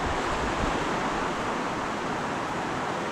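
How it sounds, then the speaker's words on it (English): A rain shower falls on a Dune 4WD King Titan Deluxe Double canvas swag, giving a dense, even hiss of drops that stays loud and unbroken the whole time. "that's a nice shower going over. That'll wet it down and get the stitching and the seams all tight"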